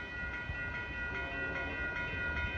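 Amtrak Coast Starlight passenger train #14, hauled by a P-42 locomotive, departs along Fruitvale Ave in Oakland, California, a steady rumble and rolling rail noise with faint rhythmic clacks, at moderate distance.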